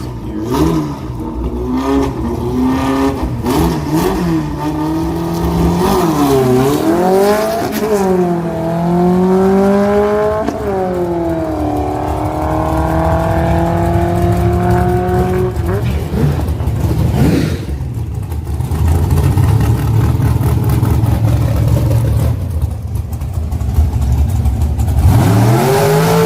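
Race cars roar around a racing track at night, engines revving and shifting with rising and falling whines, loud and continuous throughout with a brief lull before another car passes.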